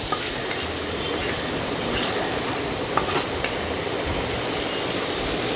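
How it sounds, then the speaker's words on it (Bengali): Spice paste with ginger is stirred and fried in a pan with a splash of water, giving a steady close sizzle with faint scraping strokes throughout and no voices. "ভালো করে নাড়াচাড়া করে নিলাম, আদার কাঁচা গন্ধটা যাতে চলে যায়"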